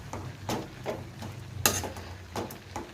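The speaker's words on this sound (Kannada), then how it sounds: "ಮಿಕ್ಸ್ ಮಾಡುವ." Tomato gojju being stirred in a pan, quiet rhythmic scrapes and taps of a spoon against the pan over a faint low sizzle, no talking.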